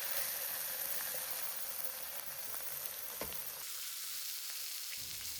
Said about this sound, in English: The grilling process is the most important to make delicious miso pork.